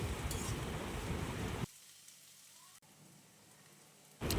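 Chillies frying in a pan for an egg and eggplant curry: a dense, loud sizzle for the first second and a half, then a much quieter low hiss, with the loud sizzle returning at the very end.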